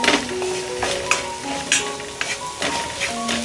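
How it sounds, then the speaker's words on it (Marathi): Vegetable masala sizzling in a hot pan, a steady close fry with brief stirring scrapes and clinks running throughout. "मसाला व्यवस्थित फ्राय झालेला आहे"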